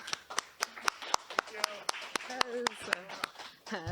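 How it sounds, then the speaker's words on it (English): A small open mic audience at a Toledo venue claps for a performer. The individual claps are sparse and distinct, with a few people whooping and talking over them. "let's give Lil Joe another round of applause"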